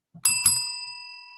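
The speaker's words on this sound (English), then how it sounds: "Don't ring that damn bell." A bell rings twice in quick succession, bright metallic dings with a long clear ringing decay that fades slowly, preceded by a soft tap, with no talking.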